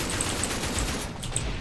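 Rapid automatic gunfire in the online shooter game Line of Sight forms a dense, continuous burst of close, loud shots with no talk.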